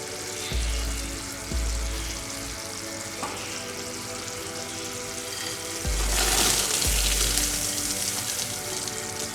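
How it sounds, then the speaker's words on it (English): Cooked peanuts and sesame seeds are stirred into bubbling treacle, giving a continuous sizzling, frothy hiss with a few low thumps of the spoon against the pan. "Now we will mix peanut and sesame seeds that we earlier cooked"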